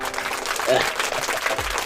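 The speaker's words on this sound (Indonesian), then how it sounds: "Mana tepuk tangan Bu Nurwati?" Applause for a woman presenter at a school training simulation, a brief burst of many hands clapping close by, mixed with voices talking over it.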